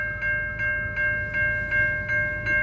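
A freight train rolls past Zoschke Road in Riverside near Benton Harbor, Michigan. Close by, its cars beat a steady, rhythmic clatter, about three pulses a second, over a constant tonal ring and a low rumble.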